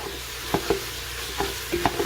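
Ground meat for lasagna sizzles in a hot pan, with a spoon scraping and turning it in a few distinct strokes over a steady low frying hiss, close up and alone.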